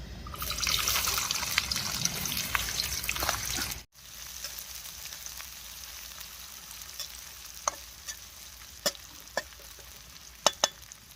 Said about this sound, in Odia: ଏବେ ଆମର ପିଆଜ ପଡ଼ିବ